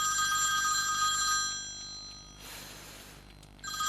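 Telephone bell ringing loudly indoors in a domestic drama scene, a sustained bright metallic trill that breaks off briefly and then starts again, with no talk.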